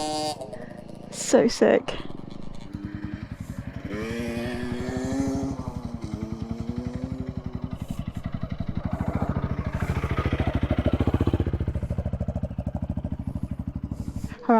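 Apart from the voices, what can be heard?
enduro motorcycle riding past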